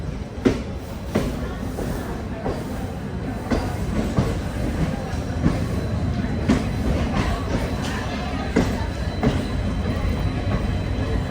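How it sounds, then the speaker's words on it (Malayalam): A train rumbles steadily with rhythmic wheel clacks and metallic clicks as it pulls away from Subrahmanya Road station, a continuous loud rolling noise throughout. "സുബ്രഹ്മണ്യ റോഡ് സ്റ്റേഷൻ ഇതാ ട്രെയിൻ എടുത്തിരിക്കുകയാണ്"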